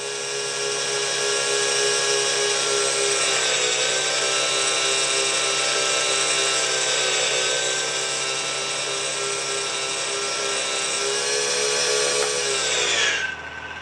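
An RC helicopter flies close by, its high-pitched whining motor and rotor holding a steady buzzing tone with slight pitch shifts for about thirteen seconds before cutting off abruptly, no talking.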